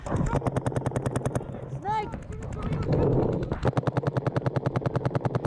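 A paintball marker fires rapid, evenly spaced shots during an NXL practice session in Las Vegas. The crisp pops come in fast bursts with a short break in the middle, and a voice is heard briefly during the pause.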